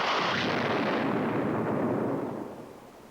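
A ship's cannon fires a single loud, broad boom that rolls on and slowly fades over about three seconds, with no voices over it.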